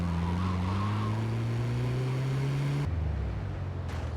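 A car driving in Grand Theft Auto: Liberty City Stories: a steady engine drone with rising revs, close and constant, then an abrupt shift as the engine note drops and changes, with no talk.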